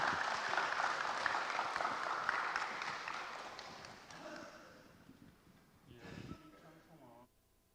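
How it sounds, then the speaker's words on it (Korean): Applause at a church gathering of the Cheongsong church community, a broad wash of clapping for several seconds that thins and fades, with some talk near the end. "큰 박수로 부탁드립니다"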